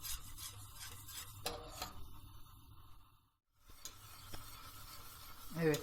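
A whisk scrapes and stirs arabaşı soup dough in a pot until it boils, soft rhythmic rasping strokes close by with a brief pause before the stirring resumes.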